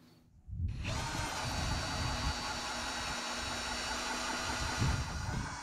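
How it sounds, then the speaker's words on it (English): A power drill starts abruptly and runs continuously at a steady whine, loud and close, with a low rumbling strain as it bores a large hole for a boat through-hull. "Let's get the big hole drilled."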